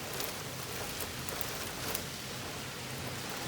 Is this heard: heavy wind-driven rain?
yes